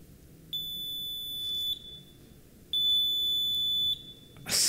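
Front-door entry buzzer triggered through an Asterisk phone system beeps twice, each a steady high electronic tone lasting over a second, with a gap between, then a brief burst at the end; no talking.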